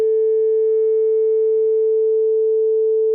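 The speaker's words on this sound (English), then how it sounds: "So that's 440 hertz." A pure 440 hertz tone from a tone generator holds steady and loud for about three seconds, alone and unwavering.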